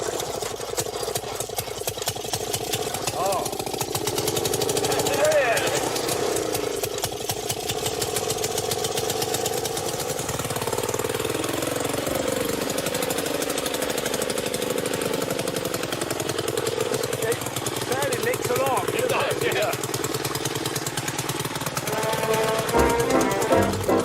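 An old motorised lawnmower engine runs continuously with a steady, rattling mid-pitched putter, holding close and loud throughout with slight shifts in tone as it works.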